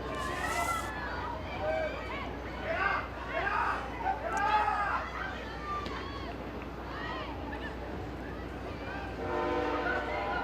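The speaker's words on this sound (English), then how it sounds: "There we hear one of the many trains we're sure to hear during this evening go by." A train rumbles past in the distance with a horn sounding during an evening soccer championship game, while a voice talks over the steady rolling noise.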